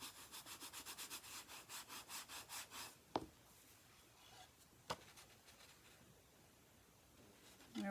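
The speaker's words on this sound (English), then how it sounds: "Give that a burnish." Papercraft paper is burnished with quick, rhythmic rubbing strokes, soft and close, for about three seconds. A couple of sharp taps and faint handling noise follow in a quiet room.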